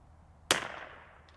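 A single sharp crack of a CZ 457 .22LR rifle shot at a target outdoors, loud and close, followed by a short decaying tail and a faint distant tick of the impact.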